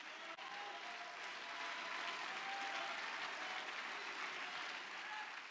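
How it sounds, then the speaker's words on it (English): A church congregation claps and shouts in praise, a dense, continuous wash of clapping with faint voices mixed in, steady throughout. "I want you to clap your hands and give a shout to God right now."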